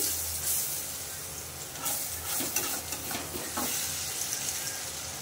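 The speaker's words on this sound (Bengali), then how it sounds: "এরকম করে সব বড়া কটা আমি ভেজে নেব" Fritters (bora) frying in hot oil in a home kitchen, a steady soft sizzle with occasional stirring scrapes and bubbling bursts, close and moderate in level with no talk.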